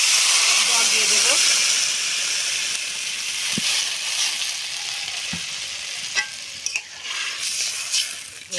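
Water poured into a hot pan of sautéed papaya and potato curry sets off a loud, steady hiss and sizzle that fades into softer bubbling, with a few sharp clinks of utensils and a voice heard under it.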